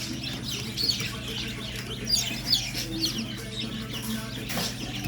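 Naked neck Türken chickens cluck and call in a coop, several short sharp clucks scattered across the span over a steady low hum, fairly close and without talk.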